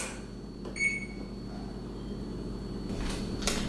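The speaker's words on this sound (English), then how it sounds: "Set the timer" Microwave oven timer beeping in a home kitchen, a short cluster of high tones early on over a steady appliance hum, followed later by a couple of soft knocks.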